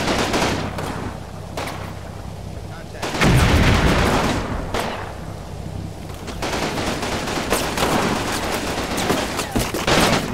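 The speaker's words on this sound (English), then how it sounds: "Another MG out there." Combat Mission wartime battle: heavy artillery blasts and bursts of machine gun fire crackle in dense, overlapping volleys, with a big booming impact partway through, loud and continuous without speech.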